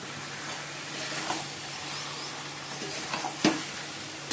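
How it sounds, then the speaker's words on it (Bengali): Boiled mutton being stir-fried in a pan, giving a steady, fairly quiet sizzle with a few soft stirring scrapes and one sharper clack near the end. "এই যে বন্ধুরা মাটনটা সেদ্ধ করে নিয়েছি, নিয়ে এখন কষাচ্ছি।"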